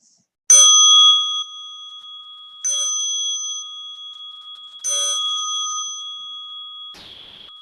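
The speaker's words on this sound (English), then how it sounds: "As you listen to the bell," A meditation bell is struck three times at an even, slow pace, each clear metallic ring sustaining and fading, followed by a softer brushing sound at the end.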